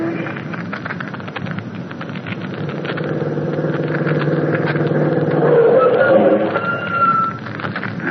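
A radio drama sound effect of a car driving off, a steady engine rumble that builds and holds for several seconds, with a horn-like tone near the end, no talk over it.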